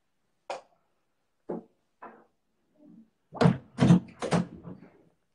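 A door is handled and closed in a few scattered faint thumps, then a louder cluster of knocking, thudding impacts near the end, close by and with no voices.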